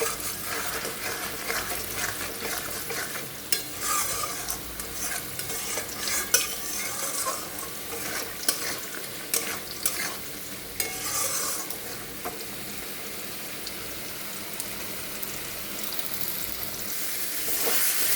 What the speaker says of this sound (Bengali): এখানে মশলা আরও ভাজা হবে।